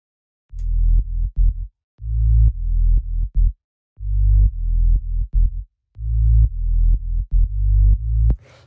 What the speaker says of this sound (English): The next thing that we have here is the bass,